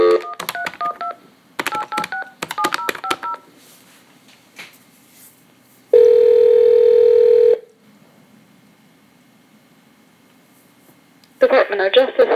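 A telephone call is placed: several quick bursts of touch-tone keypad beeps, then a steady loud tone lasting over a second, a quiet pause, and more dialing beeps at the end.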